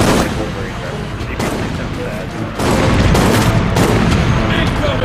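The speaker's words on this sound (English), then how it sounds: "I shot him in the face" Loud gunfire in the video game Resident Evil ORC, with shots to a zombie's head as a dense burst of close cracks that swells and stays loud to the end.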